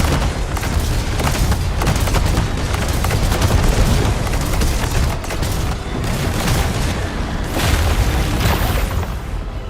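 Dense, continuous gunfire and booming explosions from the video game Arknights: Endfield, loud and sustained with rapid overlapping bursts throughout, no voices.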